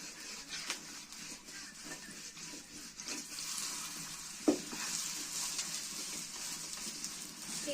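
Pumpkin flower chakuli pitha batter fries on a hot oiled pan, a steady broad sizzle that holds close and even throughout, with one brief sharp knock midway and no talking.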